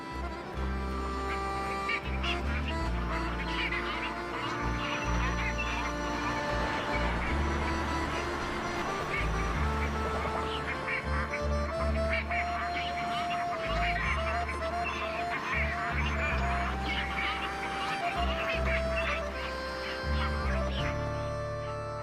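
A flock of pygmy cormorants flies upriver along the Danube in freezing winter, with a steady wash of many bird calls and honking-like cries, partly under a music bed.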